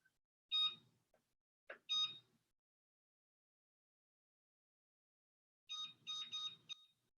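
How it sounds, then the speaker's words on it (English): A kitchen timer being set while cooking: a few short clustered electronic beeps, then a pause, then another quick burst of beeps, close and clear in a quiet room. "I'm gonna set a timer for 20 minutes."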